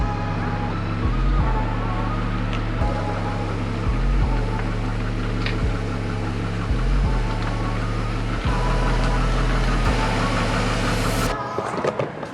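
A truck engine idles steadily at close range with a low rhythmic throb, beside a 12 by 20 foot portable garage, continuing without talk until it cuts off near the end.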